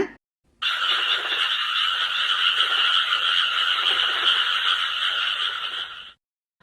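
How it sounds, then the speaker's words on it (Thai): Frog croaking in a loud, continuous rasping trill lasting about five seconds, close and clear, with no talk over it. "ไปฟังเสียงกบกันก่อนนะ"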